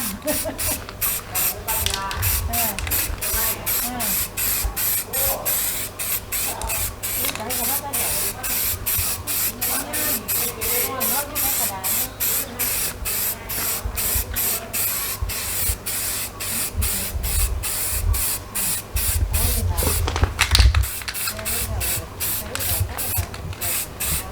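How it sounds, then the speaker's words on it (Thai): An aerosol can of ordinary spray paint hisses in many short rhythmic bursts as it coats a motorcycle exhaust pipe being reshaped for a Honda Wave, with someone talking over the spraying throughout. "สีที่ผมใช้พ่นนะครับก็จะเป็นสี สเปรย์ธรรมดานะเลสล็อก"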